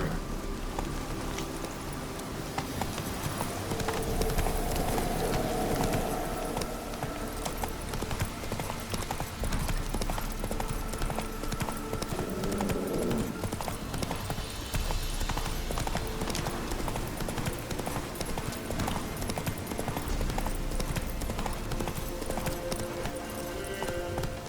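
Hooves of Roach, the horse in The Witcher 3, clip-clop steadily and close at a gallop through nearly the whole stretch, with a soft wash of rain or ambience behind and a brief whinny-like sound near the middle.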